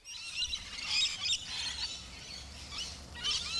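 Rainbow lorikeets call in an Australian backyard: a few short, shrill, screechy bursts of chirping, moderately close, separated by brief quieter gaps, with no voices.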